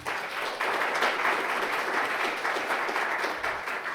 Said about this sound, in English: Can we have a warm round of applause, please?